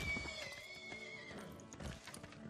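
A horse unit in the video game Civilization VI neighs with a loud, shrill whinny, followed by snorting and hoof clip-clop over a quiet game soundscape.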